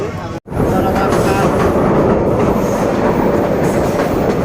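The Cox's Bazar Express passenger train rumbles loudly and continuously with a rhythmic clatter of wheels on rails, heard from close by, after a brief dropout at the start.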